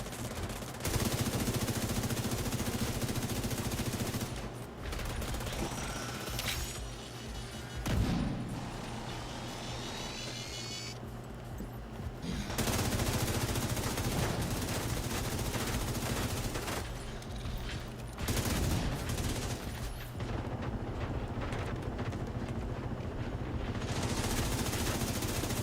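Gunfire in The Division 2 rattles in long, loud automatic bursts. Short pauses break up the sustained volleys, and a busy game soundscape fills the background, with no voices heard.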